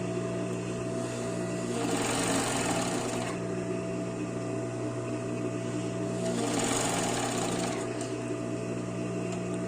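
An overlock sewing machine stitches a child's swimsuit fabric while its blade trims the excess edge, a continuous loud hum with two swelling surges of faster running, close up, with someone talking over it.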